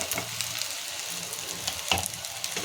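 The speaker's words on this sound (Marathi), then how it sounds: "दोन्ही बाजूनी तूप लावून आपल्याला खरपूस भाजून घ्यायचं आहे" Corn paratha roasts in ghee on a hot griddle with a steady, close crackling sizzle and a few brief pops, no voices.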